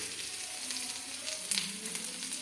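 Chopped onion and mustard seeds crackling and sizzling in hot oil with curry leaves, a steady close hiss of frying with small pops scattered throughout.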